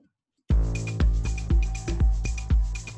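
Electronic dance music plays loudly after half a second of silence, with a steady pounding kick drum and bright repeating synth stabs.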